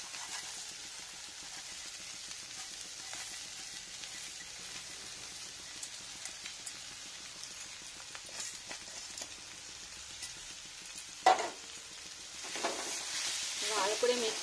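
Cornflakes powder and vegetables are stirred and fried in a pan, giving a soft, steady sizzle with faint scraping stirs and a few louder clinks near the end, all quiet and without talk.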